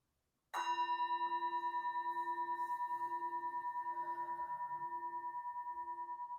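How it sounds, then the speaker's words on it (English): A meditation bell is struck once, ringing out clearly with a bright metallic tone that hangs and slowly fades with a gentle pulsing shimmer. "ring the bell at the beginning and the end"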